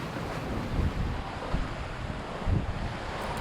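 Strong wind buffets the microphone over rushing waves on an overnight solo sailboat passage in the Caribbean, a continuous roaring wash with gusty surges.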